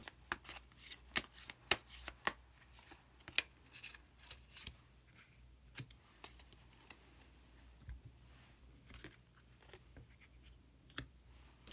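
A tarot deck is handled and a card drawn, giving a quick series of close, crisp card flicks, riffles and papery slides, some sharper snaps among softer rustling, with no talk.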